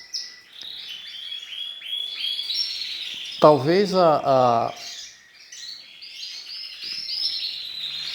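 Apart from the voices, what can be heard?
domestic birds chirping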